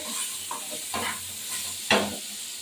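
Crushed ginger dropped into hot oil makes a continuous sizzle, with a few stirring scrapes and a sharper burst of frying near the end, close and moderately loud.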